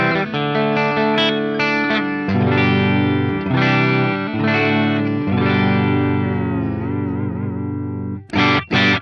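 An Ibanez RG2620 electric guitar in pickup position 5 plays a string of loud, sustained, effects-laden notes with reverb and chorus, ending in a few sharp stabs.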